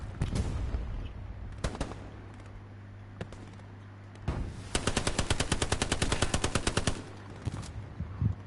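Gunfire in Hell Let Loose, a World War II shooter game: scattered single shots, then a long rapid automatic burst of evenly spaced cracks, loud and close, with further shots at the end and no talking.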